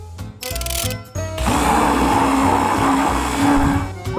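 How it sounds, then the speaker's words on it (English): Blender mixing ice cream, Nutella and milk, starting with a couple of short pulses and then running as a loud, steady whirring grind up close for several seconds, with no speech. "Now ice cream and put it in the blender."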